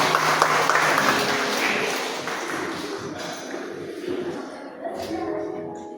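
Audience at an Indonesian faith talk gives a short round of clapping that soon thins, with some shuffling and a voice briefly audible as it dies down.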